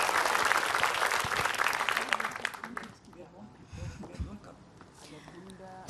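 An audience at an Islamic religious gathering claps loudly for about three seconds before the applause trails off into scattered claps and background murmur.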